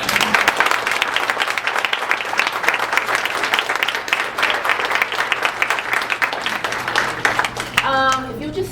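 Sustained audience applause, dense and steady clapping from a large crowd holding at an even level for several seconds before cutting off, followed by a brief voice.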